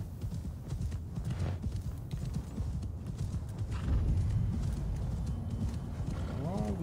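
Horse hoofbeats in Assassin's Creed Valhalla, a continuous galloping clip-clop under wind and ambience, with a brief whinny near the end.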